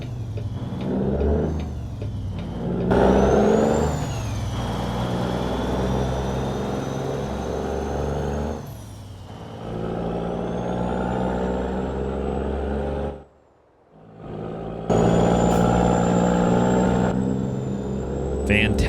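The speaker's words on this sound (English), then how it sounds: "The N14, what a fantastic engine" An N14 truck engine in American Truck Simulator pulls a tipper trailer of stone away, rumbling and revving through repeated gear changes with a brief drop before climbing again, while someone talks over it.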